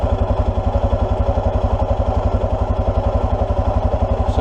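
A 2005 Suzuki KingQuad 700cc ATV engine thumps steadily and loudly while climbing a hill, its single-cylinder pulses rapid and even throughout, heard up close.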